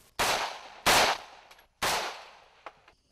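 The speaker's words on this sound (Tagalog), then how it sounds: "dumadalas ang palitan ng putok" Three loud, sharp gunshots spaced about a second apart, each with a short echoing tail, plus a fainter distant pop near the end, from an exchange of fire between MILF rebels and government militia in Cotabato.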